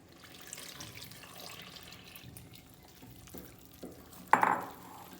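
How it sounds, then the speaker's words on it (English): Liquid poured into a bowl of dry chocolate cake ingredients, soft sloshing and stirring sounds that end in a brief louder splash near the end, with no talking. "It's now time to pour the liquid into this dried ingredients."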